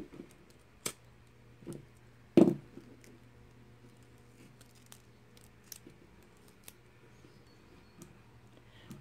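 Scissors snip through elastic cord on a kandi glove, a single crisp cut standing out amid faint scattered ticks and handling clicks in a quiet room.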